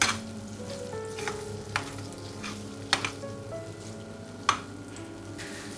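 Masala eggs sizzling in a pan over medium heat, a steady close frying hiss with occasional spatula scrapes and sharp clicks against the pan.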